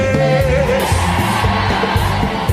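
Church congregation at a French-Creole worship and praise service shouting out together on cue, a loud massed roar of many voices with whoops and sustained tones over the short stretch.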